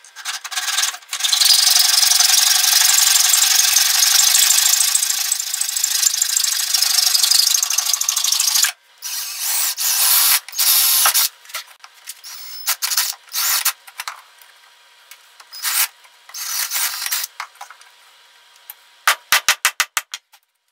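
Nut being tightened on a length of threaded all-thread rod braced against a tree for a hunting camera arm: a sustained loud metallic grinding rub for several seconds, then a series of short, irregular scraping turns and ratcheting bursts.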